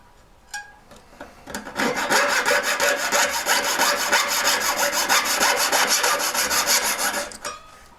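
A hand saw cuts down the middle of a hard piece held for shaping, giving loud, close, rapid back-and-forth rasping strokes in an even rhythm for about six seconds after a few tentative starts.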